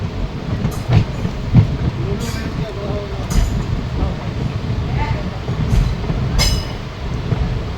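Passenger train running on the rails, a steady rolling rumble with occasional clicks and brief squeals, heard from on board while a voice talks over it.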